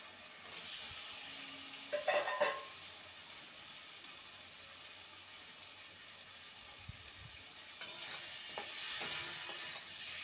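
Fried spiny gourd pieces go into a spice mix in a pan, giving a faint background sizzle broken by a few sharp scraping bursts of stirring near the start and again toward the end, with no voices.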